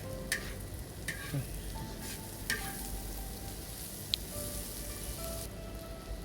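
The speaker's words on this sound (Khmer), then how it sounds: "ឆាជោក ឲ្យវាចូលគ្រឿង" Spring bamboo shoots and pork stir-fried in a pan give a steady sizzle and crackle, with a few sharp clinks of a utensil against the pan near the start.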